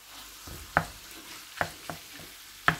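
Chicken stir-frying in a pan with oyster sauce and spices, giving a quiet sizzle broken by a few sharp scrapes and clacks of the spatula at irregular intervals, with no talk.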